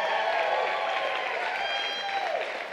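Church audience applause, a sustained wash of clapping from a crowd in a hall, even and full throughout before easing slightly at the end.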